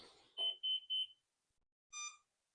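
A Flywing Bell 206 RC helicopter emits warning beeps: three quick high electronic beeps in a row, a pause, then a fourth richer tone, close and clear with no other sound.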